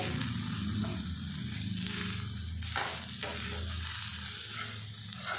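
Semolina is stirred into grated potato in a pan, giving a close, continuous sizzle with soft scraping strokes from the stirring, and no voices.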